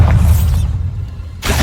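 A Bombarda spell blasts rocks in Hogwarts Legacy: a loud, deep, rumbling burst with crumbling debris, a brief drop-off, then a second heavy surge of impact noise.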